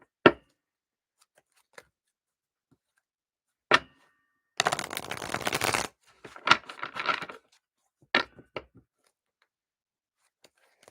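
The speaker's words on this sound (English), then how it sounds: "Let me get these shuffled up real quick." Tarot cards shuffled by hand during a live reading session, a burst of dense riffling followed by shorter flutters and a few isolated taps, close and moderately loud with no talk.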